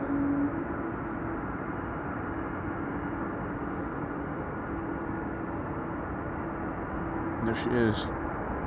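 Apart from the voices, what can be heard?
airliner taxiing to parking at Amsterdam Schiphol Airport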